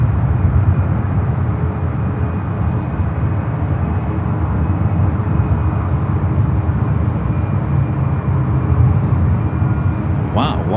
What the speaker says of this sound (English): The Japan Airlines, the Dreamliner, heading back to Tokyo Narita. Starting its taxi, should cross our cameras here in just a few minutes.